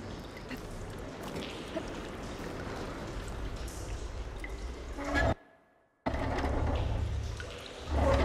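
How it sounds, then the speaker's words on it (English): Water flowing and dripping inside a room in Horizon Forbidden West, a continuous loud trickling rush that cuts out abruptly for a moment of silence, then resumes and swells again. "Aloy, I can hear water in the room again."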